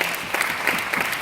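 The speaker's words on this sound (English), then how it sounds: "Please give them a round of applause." A reception crowd applauding artists at a library cultural center, a dense, continuous wash of clapping from many hands, steady and moderately loud throughout.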